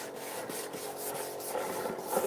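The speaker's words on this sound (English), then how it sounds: "Sometimes you got to resort to your hand sanding." Steady back-and-forth rasping of sandpaper rubbed by hand over wood, in quick rhythmic strokes, close by.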